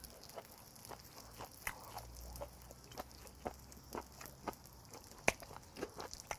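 Grilled beef tripe (makchang) chewed up close at a Korean eating show, with a steady run of short, moist, rubbery chews and small crunchy clicks at an even pace.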